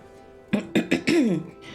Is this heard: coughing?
yes